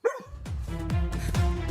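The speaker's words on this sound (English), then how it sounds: "Bark! I hear bark!" A dog barks close and loud, a quick high yelp followed by three to four rhythmic woofs in under two seconds.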